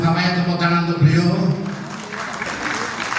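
Audience applause at an Indonesian PMII anniversary celebration and halal bihalal gathering, a steady crowd clapping that swells briefly and continues under a speaker's voice.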